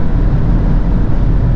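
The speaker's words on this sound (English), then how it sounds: "It's the wind that is creating the noise, but still very, very noisy." Inside a 2025 Skoda Kamiq 1.5 TSI on the German autobahn above 150 km/h, loud steady wind and road roar fills the cabin, a dense low rushing drone with no talk.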